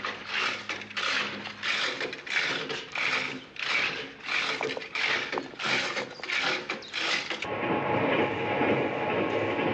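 A passenger train with a dining car running on rails, heard from inside as rhythmic clattering bursts over the joints, then a steadier rushing rumble, moderately loud with no talk.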